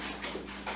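Dogs panting and snuffling close by in a brief, steady burst of breathy noise, with a couple of small whimpers, at a home during a casual sit-down chat.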